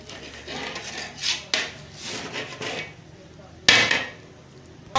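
A spoon scraping and stirring mutanjan, a sweet colored rice dish, in a metal pot, giving a few irregular scrapes and clanks with one sharper knock, close and moderately loud, without talk.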